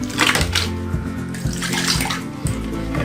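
Running water rinses a stained item during cleaning, a steady close splashing rush with small shifts in flow, heard alone without talk.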